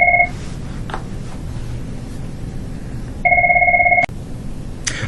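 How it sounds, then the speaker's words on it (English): An office telephone rings in two electronic trilling bursts, one brief at the start and a longer one later, loud and close over a low background hum. "sorry about that telephone call ringing"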